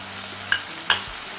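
Tomatoes with masala sauté in a pan for small-onion kara kuzhambu, a soft, close sizzle interrupted by two quick scrapes of stirring.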